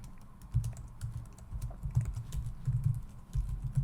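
Code is typed quickly on a computer keyboard, producing a dense run of soft, close clicks and thumps with no talking over them.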